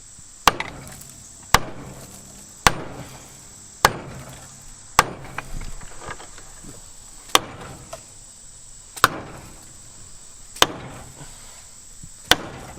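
A rusted brake drum on an old abandoned muscle car is struck to work it loose. About a dozen sharp, ringing blows fall at a steady pace of roughly one per second, close and loud over a quiet background.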